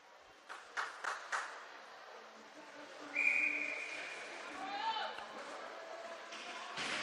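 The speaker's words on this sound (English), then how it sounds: "We will get an immediate whistle after that" A referee's whistle blows at a youth ice hockey game, a short shrill tone amid arena noise, with sharp puck or stick knocks and a voice nearby.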